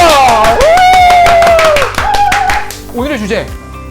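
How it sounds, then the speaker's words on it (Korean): Clapping from the host and guests on a Korean church channel's studio talk show, with rhythmic claps running under loud voices and musical tones before fading out. "박수!"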